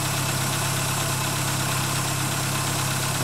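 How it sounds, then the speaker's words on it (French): A cold Renault Twingo engine idles in a steady, even mechanical drone with a low hum and slight vibration, close to the microphone and unbroken throughout, with no voices. "Moteur à froid de la Twingo avant le traitement."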